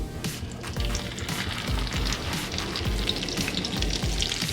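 Filipino turkey giniling torta frying in a pan, a continuous close crackling sizzle of hot oil with soft low thuds as it cooks and is flipped.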